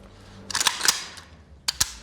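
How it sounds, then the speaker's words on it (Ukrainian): Kalashnikov rifle dry firing: sharp metallic trigger and sear clicks in two quick bursts, a cluster of three or four close snaps followed after a pause by two more, faint and alone against a quiet background. "повільно відпускаємо спусковий гачок до моменту, коли шептала повернеться на своє місце, що супроводжується відповідним клацанням"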